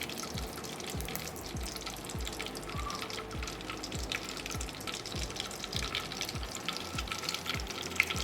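Curry leaves sizzle in hot oil for a Tamil fish curry, a steady dense crackle and hiss with small pops running evenly throughout, close and moderately loud.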